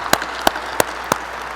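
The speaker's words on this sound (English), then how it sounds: "So can we give that a round of applause?" At a community college graduation ceremony, four sharp, isolated claps ring out at a slow, even pace over a quiet room hum.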